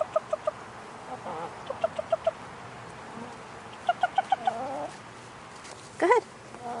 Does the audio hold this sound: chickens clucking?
yes